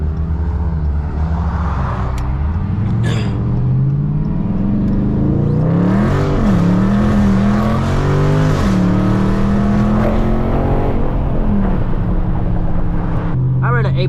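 A widebody Dodge Challenger Scat Pack drag racing an eighth-mile, its V8 roaring loudly and steadily up through the gears with rising and shifting engine pitch, close and continuous.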